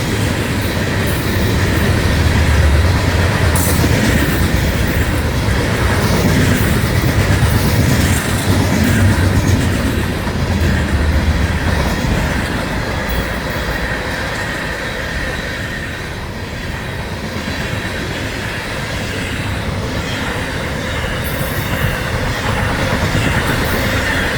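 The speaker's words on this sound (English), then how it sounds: "So that's the Fort Pierce train." A Florida East Coast Railway manifest freight train, the Fort Pierce job, rolls past close by in a loud, steady rumble of wheels and cars, with faint squeals and rail clatter running throughout.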